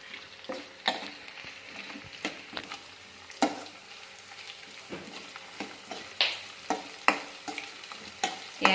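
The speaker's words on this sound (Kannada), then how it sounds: "ಇದು ಹಸಿಮೆಣಸಿನ್ಕಾಯಿನೂ ಚೆನ್ನಾಗಿ ಎಣ್ಣೆನಲ್ಲಿ ಫ್ರೈ ಮಾಡ್ಕೋಬೇಕು" Chopped green chillies frying in hot oil, with a continuous crackle and irregular sharp clinks and scrapes from a spoon stirring the pan, fairly close and with no voices.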